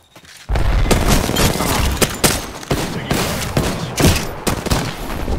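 Apex Legends grenade blast in a chaotic firefight: a sudden loud boom kicks in after near silence, then continuous dense gunfire and repeated sharp explosive bursts fill the rest, with a voice briefly calling out under the action.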